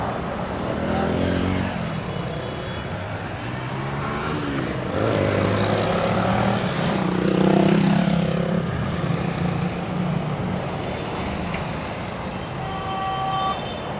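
Road traffic in Santo Domingo, capital of the Dominican Republic: a continuous wash of passing cars, motorbikes and trucks with engine rumble and occasional horn toots, close and fairly loud.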